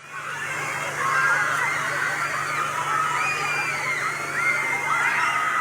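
A crowd of students shriek and shout while running through firefighters' hoses, over steady sloshing and splashing water, a busy, noisy outdoor scene at moderate distance.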